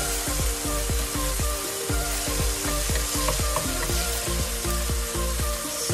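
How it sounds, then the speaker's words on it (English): Onions and tomato sauté in a hot pan with pear squash, a steady loud sizzle and crackle broken by rapid repeated scraping and stirring strokes, close up with no talking. "so that way it's, you have space to saute the tomato"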